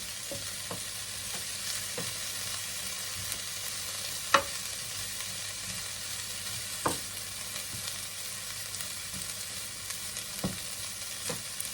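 Mung beans fry in a pan for ginisang monggo with a soft, steady sizzle and occasional sharp clicks of a spoon stirring, fairly quiet and with no talk.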